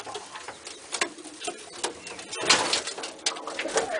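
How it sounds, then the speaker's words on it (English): A pet pigeon coos in soft repeated bursts nearby, with rustling and small clicks around it and no talking. "And then there's pigeons like this one."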